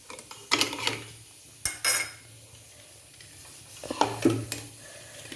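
A mixer jar with water inside is shaken to rinse it, giving a few short bursts of sloshing and clattering knocks with quiet gaps between, close by and without speech.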